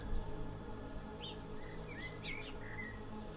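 Steady pulsing insect buzz, like cicadas, runs throughout with a few faint bird chirps mixed in, fairly quiet and distant.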